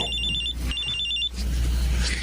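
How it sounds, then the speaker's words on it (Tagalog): A cellphone rings with an incoming call, giving two bursts of a bright, rapidly warbling electronic ring over a low steady hum. The sound is close and loud, with no talk over it. "may tumatawag sa cellphone ko"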